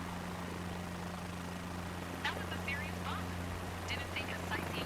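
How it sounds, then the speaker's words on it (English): Steady low rotor and turbine drone of a helicopter in Microsoft Flight Simulator 2024, constant and even throughout, with a voice talking faintly over it. "I'm not a fan of this helicopter."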